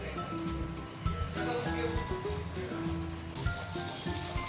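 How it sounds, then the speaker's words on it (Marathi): Cumin seeds crackle in hot ghee and butter in a pan, making a continuous sizzling hiss with scattered pops and small bursts. "पॅनमध्ये तूप आणि बटर घालायचं आहे आणि जिऱ्याची फोडणी द्यायची आहे"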